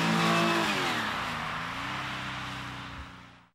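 A VW Karmann Ghia hybrid engine roars past at speed, pitch sliding downward as it pulls away and fades, loud at first then dwindling to quiet.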